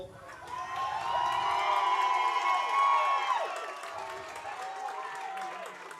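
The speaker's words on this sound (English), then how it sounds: "it's always encouraging to hear the fans cheer on, even if it's just for a penalty going their way or a decent run" Football fans in the stands at a high school game between Frewsburg and Portville cheer and shout after a penalty call, a broad crowd roar that swells, peaks midway and eases off while staying steady.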